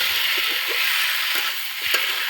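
Tomato pieces sizzle as they drop into hot spice paste frying in a pan, a steady bright crackle throughout with a few brief louder spits, close by and with no talk.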